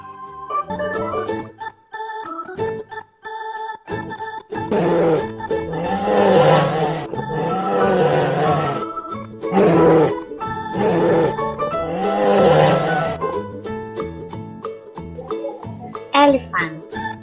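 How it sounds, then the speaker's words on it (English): A bear's deep roars and grunts in a few loud, drawn-out bursts, separated by short pauses, with tonal background music running underneath throughout. "Bear."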